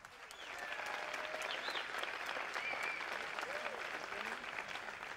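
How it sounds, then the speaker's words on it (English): A boxing crowd applauds both fighters after the bout, a steady wash of clapping that swells in quickly and holds at an even level, with faint whistles and cheers mixed in. "Ladies and gentlemen, both fighters, give them a big round of applause,"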